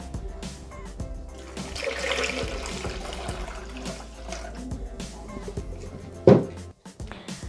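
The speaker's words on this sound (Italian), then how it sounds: "e aggiungiamo l'acqua" Water poured into a Thermomix bowl while making red lentil soup, a steady trickling splash that runs for several seconds and ends in a brief louder slosh, close and moderately quiet, with no talking.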